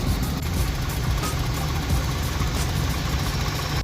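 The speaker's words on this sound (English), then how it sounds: "I'm going to let the car run at least 15 minutes" The engine of a BMW E36 sedan idles steadily nearby, a constant low rumbling hum with no voices.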